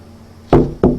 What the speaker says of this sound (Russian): это был звук удара кулака по стеклу